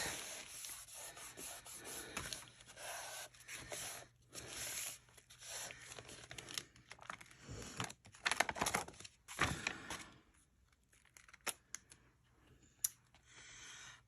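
A Ziploc bag is rubbed hard onto paper for mono printing, giving close, scratchy rubbing strokes in uneven bursts with short pauses, fairly quiet and with no talking.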